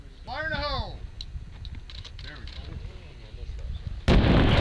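A C4 charge detonated in Kandahar, Afghanistan bursts into a loud, close blast near the end, after a shouted warning and some background talk.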